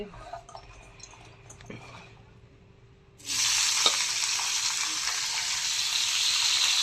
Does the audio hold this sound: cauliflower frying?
yes